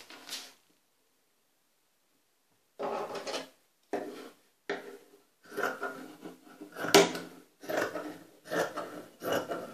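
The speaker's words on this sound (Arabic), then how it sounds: "دابا أنا غادي نقطع،" Scissors cut fabric for an abaya in short close bursts of snipping and rustling, separated by a long pause near the start and coming more regularly toward the end, with no talking.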